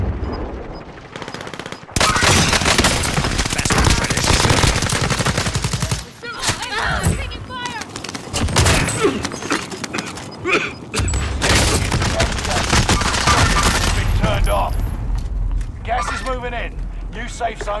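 Heavy gunfire in Call of Duty: Modern Warfare crackles in loud, rapid automatic bursts and single shots, nearly continuous with brief gaps, while players talk over it.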